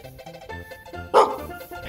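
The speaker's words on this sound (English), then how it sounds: "All you could do is bark at me." One sharp, close dog bark bursts out partway through, standing alone against a quiet indoor background without speech.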